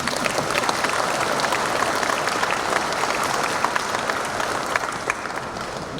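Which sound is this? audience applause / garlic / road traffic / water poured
audience applause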